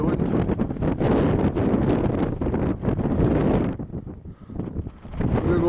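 Wind buffets a hillside on the Meall Mor to Geal Charn ridge in gusts, loud and roaring against the microphone, then easing briefly before rising again.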